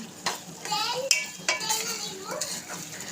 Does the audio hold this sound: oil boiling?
yes